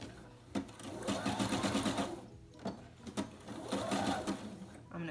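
Sewing machine stitching fabric for an envelope pillow, running forward then reversing to lock the stitch, in two rapid bursts of needle clatter separated by a brief pause.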